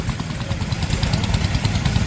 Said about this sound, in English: This is a Perkins pump engine from Perkins Windmill, and it's got a very unique governor and igniter link there.